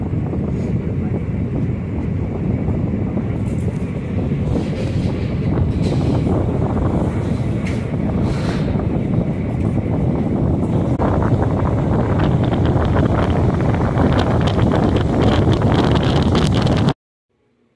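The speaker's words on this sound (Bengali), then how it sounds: "তো আমাদের ট্রেন কটক জংশন থেকে ছেড়ে দিল এবং অন্ধকারও হয়ে গেল।" An express train rolls on after leaving Cuttack Junction, heard from inside as a loud, steady wind-like roar with rumbling wheels that grows busier and rattly toward the end before cutting off abruptly.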